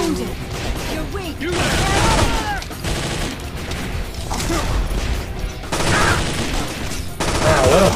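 Cannons fire repeatedly in an action video game, loud bursts of booming gunfire arriving in waves over a dense, busy soundscape with voices mixed in.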